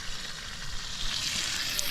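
Burgers and bacon fry in a pan at an outdoor campsite, a close, dense sizzle and crackle that holds steadily through the short moment with no talking.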